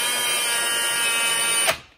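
A power drill runs steadily while driving a screw into a mounting bracket for cordless faux wood window blinds, a continuous close whir that ends with a brief tightening catch before stopping.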